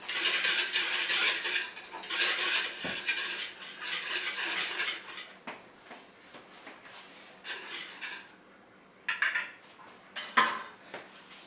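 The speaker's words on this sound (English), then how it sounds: "And then I take a whisk, and I whisk the stuff together" Metal whisk clattering and scraping against a bowl as biscuit dough ingredients, mostly flour, are stirred together, in steady close bursts with a short pause and a few sharp knocks near the end.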